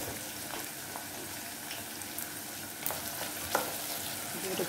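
Chili fries in hot oil in a pan for calabash curry, a soft continuous sizzle with scattered small pops and spatters, fairly quiet and close, with no talking.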